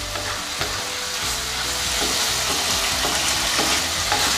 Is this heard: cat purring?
no